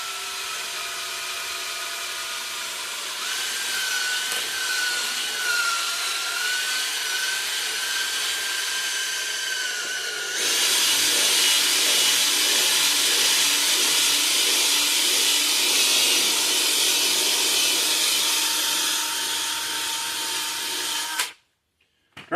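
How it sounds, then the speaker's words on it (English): A power drill whines steadily, then the pitch drops and grinds as it drills a hole into a horse's hoof, running continuously before cutting off abruptly. "So let's drill a hole."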